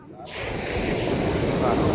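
Loud, steady roar of ocean surf rising after a brief quiet moment, with wind rushing across the microphone.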